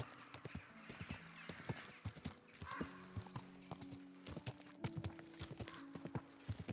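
Horse hooves clip-clopping in a steady, uneven rhythm with a neigh partway through, from a video game, close and clear with no talk over it.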